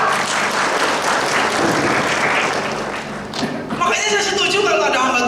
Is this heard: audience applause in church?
yes